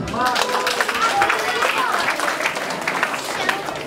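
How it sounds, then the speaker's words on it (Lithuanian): An audience at a school talent show claps to welcome performers, a dense burst of applause that starts right away and carries on steadily, with voices mixed in. "Pasitinkam plojimais."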